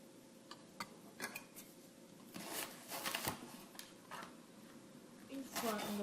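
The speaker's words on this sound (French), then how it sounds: "Donc on va commencer par couper et hacher nos oignons." A knife chops onions on a board. The cuts come as a series of close, sharp taps in an irregular rhythm, growing busier partway through, under occasional low speech.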